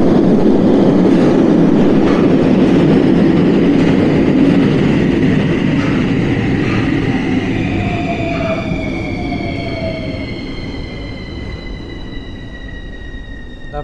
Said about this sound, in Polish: Czekam na pociąg, powinien przyjechać dosłownie za chwilę